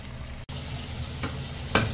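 Browned onions fry in a pan for biryani, a constant sizzle that drops out for a moment near the start, then picks up again with a couple of brief louder scraping stirs.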